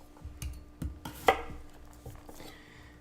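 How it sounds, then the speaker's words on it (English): A knife chopping vegetables into small pieces on a board, sharp irregular thuds at close range with short pauses between cuts and no voices. "I'm cutting up nice small pieces, right?"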